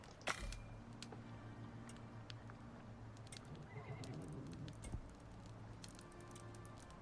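Horses neighing and whinnying in the survival video game Icarus, faint and somewhat distant, with short whinny calls over a low ambient game bed, light clicks and ticks, and no speech.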